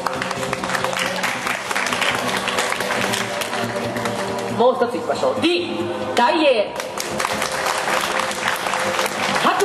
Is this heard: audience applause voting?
yes